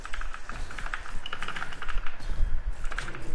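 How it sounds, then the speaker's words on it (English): Rapid clicky keystrokes on a small new computer keyboard, close and steady, with uneven bursts of typing throughout and no talk. "it's probably why you hear clicky clacking. Cause that's my new keyboard"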